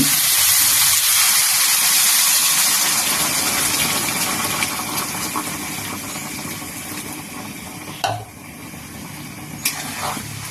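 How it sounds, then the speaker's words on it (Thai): Hot water from a thermos flask pours into a pot of mild Thai curry, a continuous close gushing wash that fades slightly toward the end, broken by a couple of sharp clinks. "อ้าวใส่น้ำร้อน"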